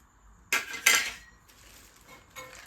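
Small plates and bowls bought for a home kitchen clink and clatter as they are handled, with two sharp ceramic knocks close together followed by softer, lighter clinks.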